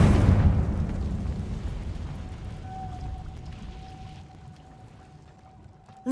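Confringo blasting spell in a Hogwarts video game: one sharp explosion burst at the start that decays into a fading rumble, followed by a thin lingering magical tone.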